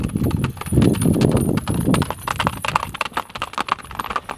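A horse being ridden by a mountain villager in Khunzakh, its hooves clip-clopping in a busy, uneven rhythm over about four seconds, close and fairly loud with some louder rumbling at first.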